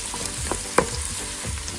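Chopped garlic and a large piece of sliced ginger frying in a pan for mutton biryani, giving a steady close sizzle with a few stirring clatters and one sharp utensil knock near the middle.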